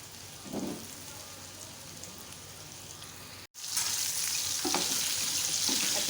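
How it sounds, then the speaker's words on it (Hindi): KFC-style chicken bites deep fry in hot oil, a steady close bubbling sizzle that cuts out briefly and comes back louder, with no talking over it. "अच्छी तरह से फ्राई हो गई है"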